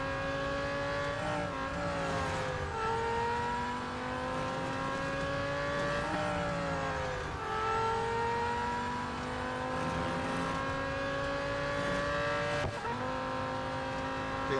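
Race cars in the mobile racing game Real Racing 3 drone steadily, engine tones rising and falling with gear shifts and speed changes, moderately loud and continuous with no talking.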